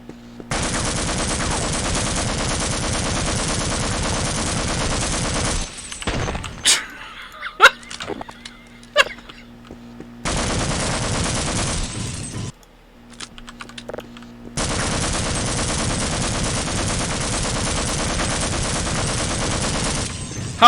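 Assault rifle fire in Half-Life: Opposing Force rattles in long, loud sustained bursts separated by brief quieter gaps with scattered impacts.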